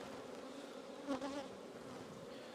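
Honeybees buzz steadily around an open hive as frames are lifted out during an inspection, a soft continuous hum with a brief louder swell near the middle.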